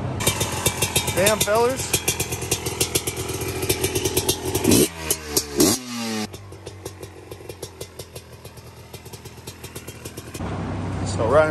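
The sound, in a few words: Honda or Yamaha motorcycle engine running with choke on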